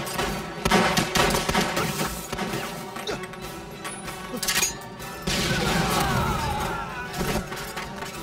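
Bursts of gunfire and heavy crashes ring out in a kung fu war film battle scene with Japanese troops, loud volleys and sharp impacts clustering in waves over several seconds.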